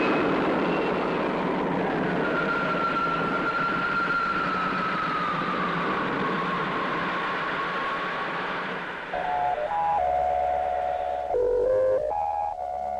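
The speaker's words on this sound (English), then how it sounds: "Takeoff program starting now." A steady, loud roar from the takeoff of a spaceship in a 1962 science-fiction film slowly shifts in pitch, then gives way near the end to a few electronic tones that step up and down.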